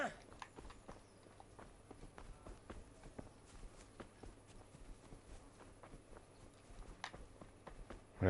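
Hooves clip-clop in a steady walking rhythm in the medieval role-playing game Kingdom Come: Deliverance, soft and mid-distance over a low ambient bed, with faint scattered footfalls.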